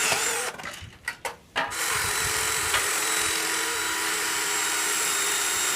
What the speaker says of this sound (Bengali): এরপর স্ক্রু দিয়ে এইখানে 4টি ছিদ্র করে নিব।